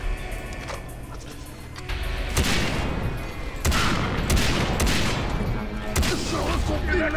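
Bursts of gunfire from the video game Far Cry 3 Blood Dragon ring out in several loud volleys over a constant background din, the shots clustered and overlapping like a firefight.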